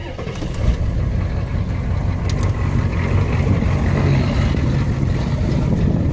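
A truck engine with straight pipe exhaust running loud and close, a dense continuous low rumble with rough pulsing and no talk over it.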